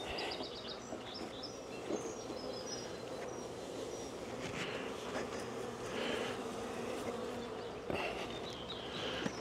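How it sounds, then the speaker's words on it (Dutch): Dense, steady buzzing of honeybees inside a hive box, heard close and continuous, with a few faint bird chirps in the background. "Nou, hier zitten dan nu mijn bijen in."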